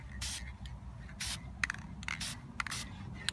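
Silver spray paint hisses onto a textured abstract painting in several short bursts, quiet and close, with small clicks of the can between sprays.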